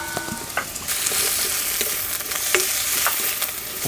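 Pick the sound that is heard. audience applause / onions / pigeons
onions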